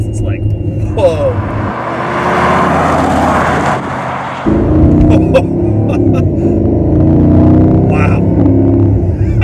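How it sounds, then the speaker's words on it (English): A Mercedes SLR engine revs hard at about half throttle, a loud, close roar that jumps in intensity partway through and holds, with a brief exclamation from a bystander. "That was about a half throttle. That is pretty intense."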